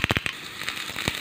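Mustard seeds pop in hot coconut oil in a quick run of sharp, close crackles and snaps, a few strong bursts at first, then lighter scattered pops.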